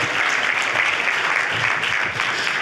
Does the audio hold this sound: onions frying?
no